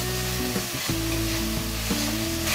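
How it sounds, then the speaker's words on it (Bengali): Spices fry in oil for a mixed vegetable dish, a loud continuous sizzle close up with a few spatula scrapes and stirs at irregular intervals. No talking. "এই মশলাগুলো খুব ভালোভাবে কষিয়ে নিতে হবে,"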